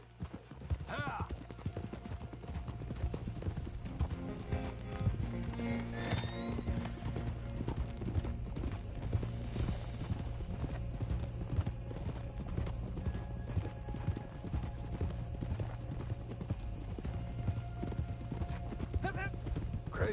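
Thoroughbred horse hooves clip-clop steadily and close in Red Dead Redemption 2, with an occasional whinny, over constant background ambience and bursts of talk.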